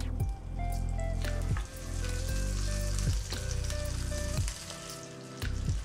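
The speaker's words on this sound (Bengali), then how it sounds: "শুটকিগুলোকে 2 পাশই লাল লাল করে ভেজে নিব" Quiet sizzling of dried chepa fish frying in a little oil in a pan, steady crackle under a background of tonal music with regular beats.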